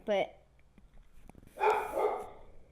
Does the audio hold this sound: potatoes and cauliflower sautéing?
no